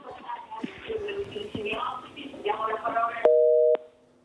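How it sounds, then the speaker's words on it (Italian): After a live call-in drops on an Italian morning broadcast, voices and studio sounds give way to a short, loud, steady telephone line tone that cuts off abruptly. "È caduta la linea, adesso la riprendiamo"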